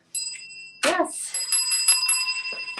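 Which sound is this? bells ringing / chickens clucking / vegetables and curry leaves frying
bells ringing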